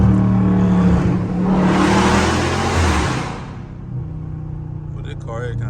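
Dodge Challenger Scat Pack engine revving hard while driving at night, a loud, close, rising roar for about three seconds that drops to a lower steady drone, with faint speech near the end.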